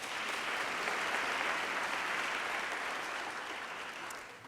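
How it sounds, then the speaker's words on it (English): A crowd claps at a Father of the Year awards event, producing a brief, continuous patter of many hands that holds steady and then tapers off slightly. "Round of applause"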